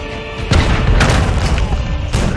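Explosive blast breaching a fortified wall during a siege battle in the strategy game Age of Empires IV, a deep sustained boom with a rumbling tail and a second impact near the end, loud and alone.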